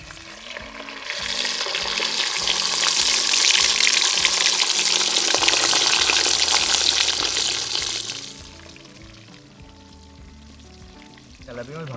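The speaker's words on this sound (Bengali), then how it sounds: "তেলটা সুন্দরভাবে গরম হয়ে গেছে, এবার ছেড়ে দেবো তেলাপিয়া মাছগুলো।" Tilapia fish frying in hot oil in a rural kitchen, a loud steady sizzle that swells for about eight seconds, then settles into a quieter crackle with no talk.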